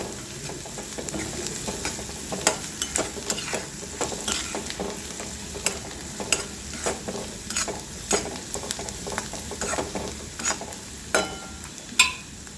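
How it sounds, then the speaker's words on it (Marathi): Green chillies sauté in a pan with turmeric, salt and chilli powder for an onion-tomato chutney: a soft, steady sizzle punctuated by rhythmic scraping and clacking stirs of a spoon, fairly quiet and with no talking. "छान परतून घ्यायचं दोन मिनटं"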